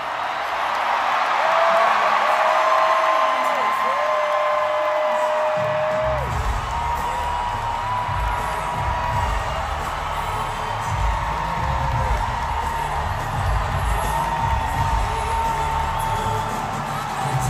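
A large rally crowd in Arizona cheers for Kamala Harris, with sustained whoops and yells that swell loudly as she comes out, joined by a steady low rumble of excited noise throughout.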